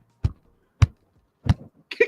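A toy baby doll gives out short burp and hiccup sounds through its built-in speaker, four brief separate bursts about half a second apart, close to the listener in an otherwise quiet room.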